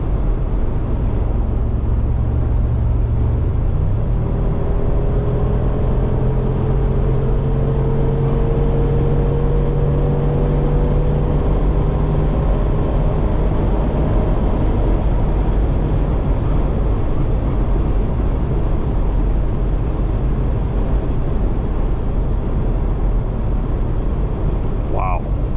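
A 2027 Mercedes G63 AMG facelift with a V8 accelerates on the Autobahn, a steady loud drone of engine and road roar with rising gear tones through upshifts, heard from inside the cabin without a break.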